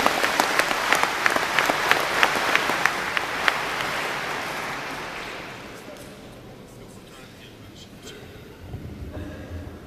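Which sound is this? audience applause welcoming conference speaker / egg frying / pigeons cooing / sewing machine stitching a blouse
audience applause welcoming conference speaker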